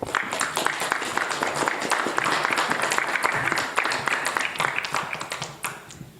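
Crowd at an artificial intelligence forum debate applauds the participants, a thick, continuous wash of many hands clapping that holds steady for several seconds before thinning slightly at the end, with no speech over it.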